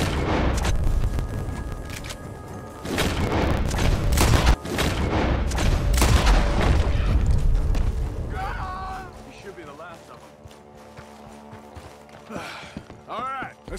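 Gunfire and booming blasts in Red Dead Redemption 2 on PC, with loud dense volleys over the first half under game dialogue, then fading to quieter music and talk.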